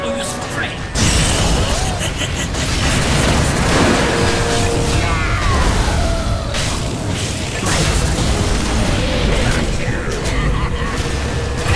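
A Dota 2 tower is destroyed amid loud, dense game action: booming crashes and crumbling debris over constant battle noise, with a voice talking at moments.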